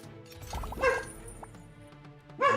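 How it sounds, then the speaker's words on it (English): Dog barks from the Emberward tower defense roguelike game, two short bursts of yapping separated by a quieter stretch, with faint game sounds and music underneath. "we may have some dog barks."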